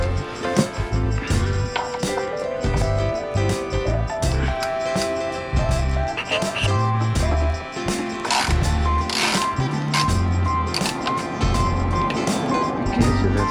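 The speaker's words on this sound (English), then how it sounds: "just loosen this pinch bolt here" Wrench loosening the front-axle pinch bolt on a Honda NC700X motorcycle, a close run of dense metallic clicks and clatter with low rumbling background noise throughout.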